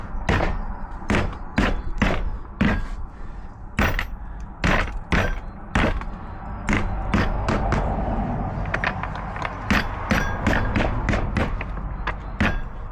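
A hammer strikes a caravan being converted into a motorcycle racevan, with more than twenty loud, sharp knocks in an uneven rhythm spread across the stretch and steady traffic rumbling behind them.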